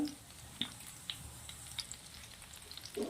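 Food frying in hot butter and oil in a pan, a steady close sizzle with small crackling pops scattered throughout, fairly quiet and continuous.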